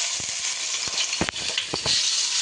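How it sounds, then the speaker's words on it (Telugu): Onions and green chillies frying in hot oil in a pan for fish pulusu give off a steady close hiss. Occasional spatula scrapes and stirring knocks break through it. "ఇంకా కొంచెం ఫ్రై అవ్వాలండి."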